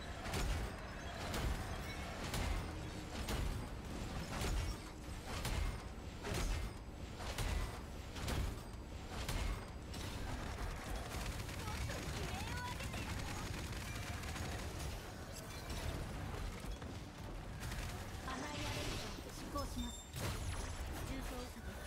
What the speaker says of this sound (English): Fine, let me blast him with the cannon.